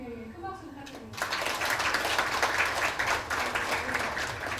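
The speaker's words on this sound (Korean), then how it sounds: "큰 박수 부탁드립니다" A brief spoken phrase gives way to a large round of sustained audience applause at an open public forum, the clapping swelling quickly and staying dense to the end.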